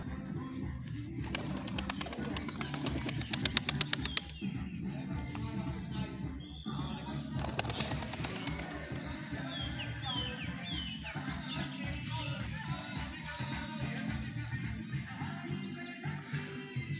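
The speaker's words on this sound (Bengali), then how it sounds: "কবুতর পানি খেয়ে উড়ে যাচ্ছে" Pigeons at a picnic spot drink water and take off, with two bursts of rapid wingbeats flapping close by and soft cooing and chirps continuing between and after them.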